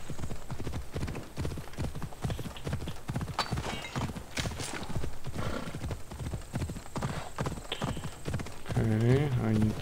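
Horse hooves gallop in a steady clip-clop rhythm in Assassin's Creed Odyssey, close and continuous, with a whinny near the end; a voice talks over the hoofbeats.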